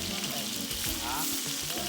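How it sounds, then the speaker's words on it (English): Garlic and onions saute in rendered pork fat, a steady close sizzle and crackle with faint stirring, no voices. "add the garlic, toast them for a while, and add the onions. And allow the onions to saute in the oils."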